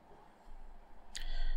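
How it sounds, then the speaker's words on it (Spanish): A single sharp mouse click on a Windows 10 restart button lands near the end, loud against a low steady room hum, with no one talking. "acá tenés que hacer clic en reiniciar"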